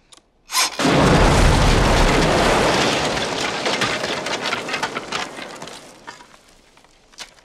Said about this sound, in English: I think you woke up the dead with that blast.